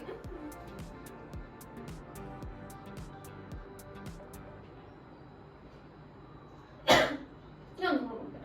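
A person drinking through a straw during a guess-the-drink game coughs twice in quick succession, sharp and loud near the end, after a stretch of quieter talk and background noise.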